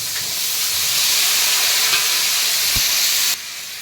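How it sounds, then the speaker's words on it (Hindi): Potatoes sizzle in a frying pan with tomatoes and chilli, making a steady, close hiss and crackle that drops slightly in level near the end. "हम आलू डाल रहे हैं इसमें।"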